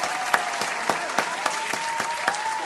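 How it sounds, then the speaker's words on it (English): Audience clapping in a room, a small group giving sparse, uneven applause with a few sharp individual claps standing out over a soft, steady background, close and fairly loud. "Give a round of applause to my brother King Tut"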